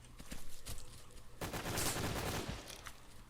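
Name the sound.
G36 rifle firing in BRAIN / OUT video game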